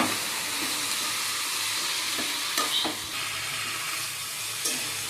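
Bottle gourd greens fry with a steady, close sizzle in a pan while a spoon stirs through them, adding a few soft scraping knocks over the continuous hiss.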